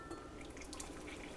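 Boiling water pours into honey and other Thrive Life ingredients while making jam, a faint, brief trickle with light dripping and glassy splashing.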